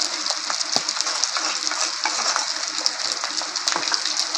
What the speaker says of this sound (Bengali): তেলের মধ্যে দিয়ে দিলাম তেজপাতা আর গোটা জিরা